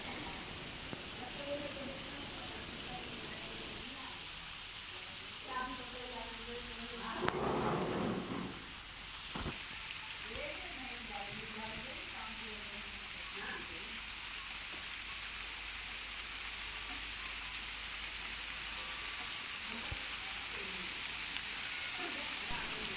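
Steady rain falls in a residential setting during Ramadan, a dense broadband patter running throughout at a moderate, even level, with a brief louder burst partway through and faint background voices at times.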